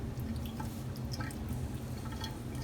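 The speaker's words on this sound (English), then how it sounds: "until you've drained all of the liquid out of your chickpeas" Liquid drains out of an upturned can of chickpeas, producing faint, soft drips and a light trickle over a low, quiet background.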